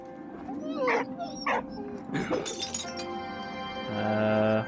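A German medical dog in the WWI video game Valiant Hearts: The Great War barks several times, loud sharp yaps among clattering game sounds and music, with a voice speaking at points.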